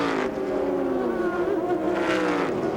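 Race cars, Dodge Vipers and Chevrolet Corvettes, roar around the Sebring circuit in a loud, continuous engine drone with shifting pitch as the cars run close together.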